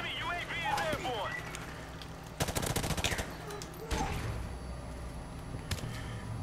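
Submachine gun fire in a video game: a fast rattling burst of closely packed shots in the middle, with scattered single shots and background game noise around it, while a person talks over parts of it.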